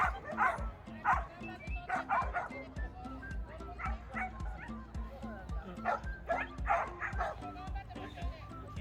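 Many dogs in a video game yip, whimper and bark together in loud, close, irregular bursts, with voices talking over them.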